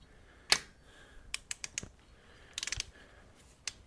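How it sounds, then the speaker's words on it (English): Ratcheting torque wrench tightening a spark plug on a Twin Cam Softail engine, with a sharp click, a run of quick ratcheting clicks and a cluster of ticks, close and fairly faint. "tighten it up till it clicks"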